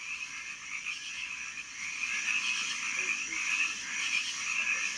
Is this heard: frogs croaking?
yes